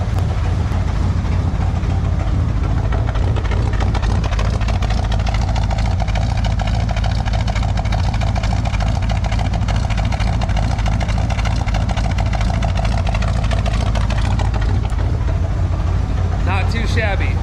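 A 1978 Chevy C10 with a Quadrajet carburetor and glass pack exhaust idles close by, a loud steady low rumble that holds throughout.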